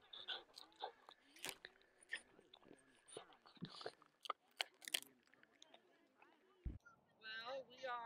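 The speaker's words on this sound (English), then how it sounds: "Oh, Timber's favorite thing, chewing sticks" A dog gnaws on a stick outdoors, making quiet, irregular crunches and bites up close. Soft human voices and rustling are heard in the background.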